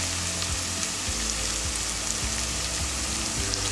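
Coconut milk poured into a hot pan for a turmeric stew sets off a steady, loud sizzle, with a low rumble underneath and a few soft clinks as it sputters; no one speaks.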